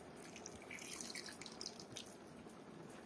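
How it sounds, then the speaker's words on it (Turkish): Half a litre of cooking oil poured into a homemade winter sauce makes a soft, continuous liquid trickle with faint splashy drips, quiet and close. "Şimdi yarım litrede sıvı yağ ekliyorum."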